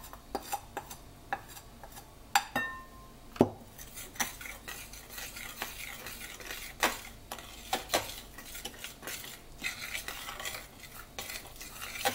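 A ladle stirs bread dough of flour worked in gradually, giving soft scraping and knocking strokes against the bowl with occasional sharper clinks, close and fairly quiet, irregular but continuous, without any talking.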